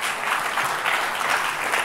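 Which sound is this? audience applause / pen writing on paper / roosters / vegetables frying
audience applause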